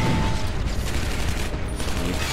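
Sustained, dense gunfire from the shooter game Shadow Warrior, a continuous loud barrage of rapid shots with no talking over it.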